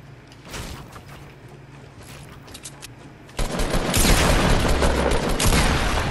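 Gunfire in a video game: a few scattered shots at first, then a sudden dense burst of rapid automatic fire that keeps going, loud and close.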